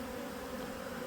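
A dense, steady hum of many bees buzzing around a hive during swarm season, continuous and even throughout, with no voices.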